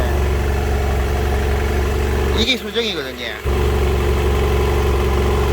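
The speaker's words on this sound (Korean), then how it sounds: "시동 걸었어요 시동 걸고" A BMW F800GS motorcycle engine idles nearby in a steady, loud low rumble, and someone talks briefly over it partway through.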